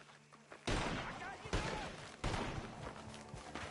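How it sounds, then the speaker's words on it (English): Gunfire in a video game comes as three loud, sharp bursts about a second apart, each trailing into a rough, echoing decay. "The gunshots are coming from that barn!"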